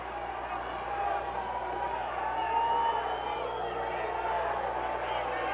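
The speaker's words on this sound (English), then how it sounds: "the crowd is really alive tonight here in historic Freedom Hall, Johnson City, Tennessee" Wrestling crowd in Freedom Hall, Johnson City, Tennessee, a steady roar of cheering and shouting from a large audience, with a commentator's voice over it.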